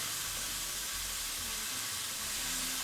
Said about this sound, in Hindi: इसको हमने थोड़ा इस तरह से सौते कर लेना है ताकि इसकी बेचैनी जो है ख़त्म हो जाए